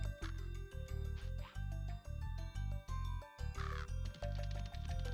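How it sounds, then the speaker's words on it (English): A crow caws a few times within the Spyro the Dragon video game, harsh calls set over steady looping background music with no talking. "Yeah, I heard the crow noise again."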